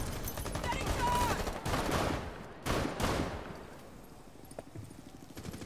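Bursts of gunfire from the Rainbow Six beta, several loud volleys in the first three seconds and then thinning to scattered fainter shots and clatter.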